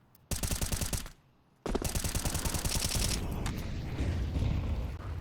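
Counter-Strike gunfire on the Overpass map, a loud rapid burst of automatic shots that briefly stops, then resumes in a longer sustained volley that fades into rumbling echoes.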